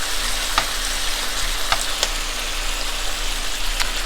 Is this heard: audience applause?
no